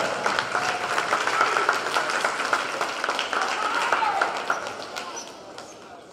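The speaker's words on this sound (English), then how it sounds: "one big round of applause for the parental support of Trinity Volleyball" A crowd applauds at an NCAA volleyball match between Trinity University and Susquehanna University, continuous clapping in an indoor gym at moderate loudness, with an announcer's voice over it, tapering off toward the end.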